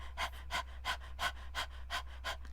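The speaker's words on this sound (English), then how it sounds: "It's light, fast, like a panting breath, yeah?" Breath of Fire yoga breathing, light and fast panting breaths taken through the nose and mouth, about seven quick even puffs in a steady rhythm, close and soft with no talking.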